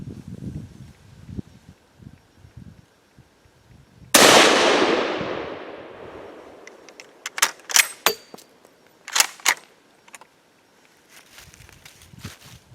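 A single loud 7.62x54R rifle shot at an outdoor range, a sharp blast with a long decaying echo, followed by scattered distant cracks and clicks.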